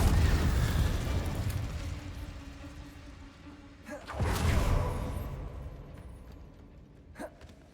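Spells such as Incendio are cast in the Hogwarts Legacy video game. Two booming magical bursts swell and fade a few seconds apart, with a sharp pop near the end.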